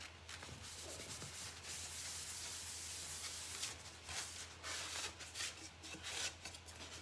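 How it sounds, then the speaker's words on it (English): Light hand sanding over painted wood to remove a spot of bled-over paint, a soft continuous rubbing scrape with short strokes, close and fairly quiet with no talking. "I'm just gonna see if I can sand it off. And I'm just gonna go real lightly."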